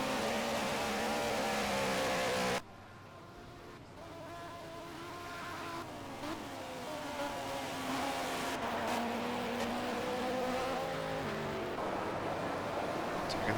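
A race car in the Project Cars video game laps Circuit de Catalunya, its engine a continuous loud drone that rises and falls through gear changes and corners, with a sharp cut to a quieter interior tone early on.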